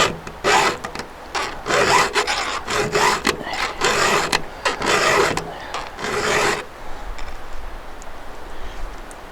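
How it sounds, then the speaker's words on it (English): A hand file rasps against chainsaw chain teeth in steady back-and-forth strokes, each one a harsh, close scraping burst. The stroke rhythm repeats for several seconds, then stops abruptly, leaving quiet room tone. "I'm kind of using the file, and I'm looking at how the file meets the cutting edge of the tooth"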